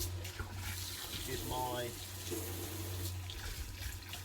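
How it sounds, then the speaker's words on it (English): Water runs steadily from a garden hose outdoors, a continuous soft hiss and splash beneath a voice speaking throughout. "while I've got the hose out, what I normally do is just sometimes wash down"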